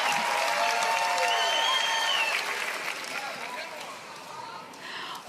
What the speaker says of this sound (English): a little bit of a sarcastic cheer.